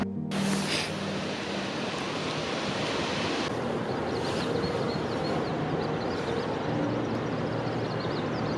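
Water streams rush steadily in darkness along the Vasuki Tal trek near Kedarnath, Rudraprayag, a continuous broadband roar of flowing water close by with no voices.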